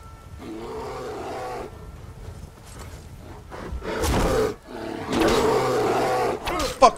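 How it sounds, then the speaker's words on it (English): A bear roars in the video game Skyrim with Requiem and Frostfall mods, a few loud, rough bursts that swell and break off, mixed with game noise and a person talking over it. "Oh shit, it's a bear!"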